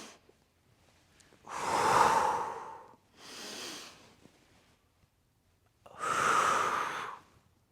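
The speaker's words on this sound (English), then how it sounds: "Breathing each time." Heavy breathing during a core exercise for back pain training, three loud, drawn-out breaths close to the mic, each a long exhale separated by short quiet pauses.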